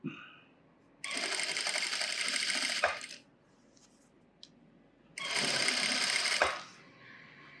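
A sewing machine stitches piping onto a blouse puff sleeve in two loud, steady whirring runs of about two and one seconds, each ending with a clunk, separated by near silence.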